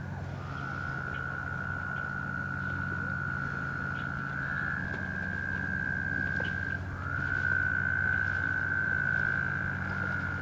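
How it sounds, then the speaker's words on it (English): Frogs call in steady chorus by a Pennsylvania woodland in spring, a sustained high trill running almost unbroken for ten seconds over a continuous low background hum, fairly loud and close. "Listen to the frogs."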